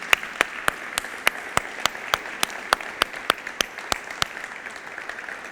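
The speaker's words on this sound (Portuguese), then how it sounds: "Mais uma salva de palmas para Jesus." Congregation clapping during a Thursday evening church service, a few sharp rhythmic claps in a steady beat rather than a full ovation, distinct and fairly close over a quiet background.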